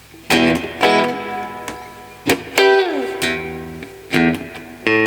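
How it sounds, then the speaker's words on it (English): Electric guitar chords strummed in separate bursts, each ringing out with a lingering reverb tail and a sliding bend in the middle. "Let's give it a little bit of reverb."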